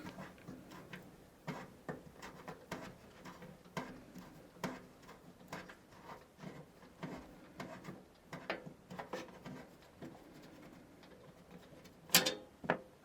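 A sliding drive part clicks and ratchets free of a GMC H-80 mid-size tower computer case as its lever is pressed, a run of small, faint mechanical ticks and rattles ending in one sharper snap.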